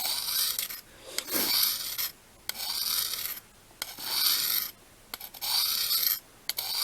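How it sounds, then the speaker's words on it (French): A knife blade is drawn across a Lansky Blade Medic diamond sharpener in about six rhythmic rasping strokes with short pauses between them, close and fairly quiet, with no voices. "Il doit y avoir pas mal de grains de diamant, c'est pour ça que c'est assez abrasif, pour permettre d'aiguiser, je pense."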